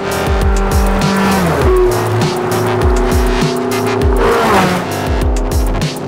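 A Porsche Carrera GT with a 5.7-litre V10 roars past loud and close, its engine note rising and dropping through repeated gear shifts with a sustained high-pitched whine and hints of tyre squeal.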